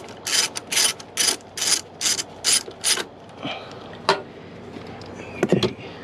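Ratchet wrench working door panel bolts on a 2008 BMW 328 xi, seven quick rhythmic ratcheting bursts close up, followed by a few scattered clicks and metallic handling knocks.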